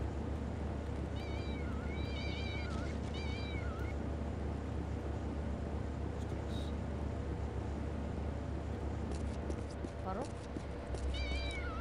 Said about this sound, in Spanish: Joder, bro, los putos gatos de mierda